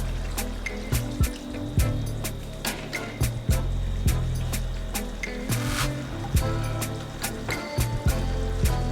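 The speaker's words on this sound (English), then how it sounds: "I'm gonna add some more water." Water poured into a pot of crushed garlic for Jamaican steamed fish, a steady close trickle and splash with scattered clinks and taps, no talking.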